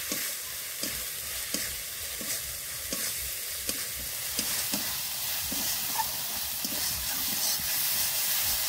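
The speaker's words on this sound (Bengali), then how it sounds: "আর দিয়ে দেবো অল্প একটু লঙ্কার গুঁড়ো, শুকনো লঙ্কার গুঁড়ো। এবার ভালো করে কষে নেব।" Ground spices with coriander and dried red chilli powder frying in a pan for prawns with spinach, giving a steady, soft sizzle with light, regular taps and scrapes from stirring.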